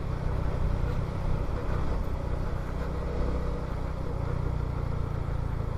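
A Honda XRM Fi motorcycle running at speed, with a steady droning engine and wind roar held constant throughout.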